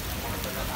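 Steady rain pours down outdoors as a constant, dense wash of broadband hiss with no clear individual drops, filling the whole moment without any voices.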